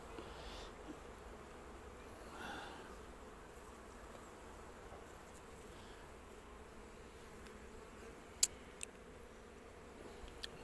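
Honeybees from last year's hive splits, in a neglected, hungry colony that has lost many bees, give a faint, steady hum close by, with a few sharp clicks near the end.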